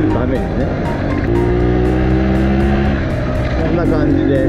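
A Showa-era two-stroke off-road trials motorcycle idles and revs close by, its engine drone stepping in pitch as the rider works the gear changes, with a steady loud buzz throughout.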